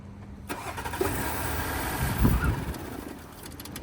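A Porsche Cayenne with an engine control fault cranks briefly, then the engine catches and runs roughly for a few seconds at medium pitch before dropping away, heard close with no talking.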